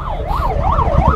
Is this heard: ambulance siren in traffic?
yes